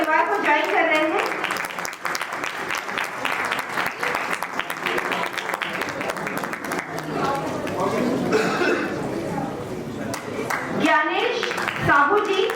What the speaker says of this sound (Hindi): मैं जोरदार तालियां चाहूंगी सदन से।